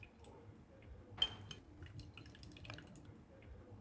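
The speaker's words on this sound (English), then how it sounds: "it's very few drops it takes to make that solution acidic" A few drops of strong acid falling into water in a flask, one clearer plink followed by faint small drips over a quiet background hum.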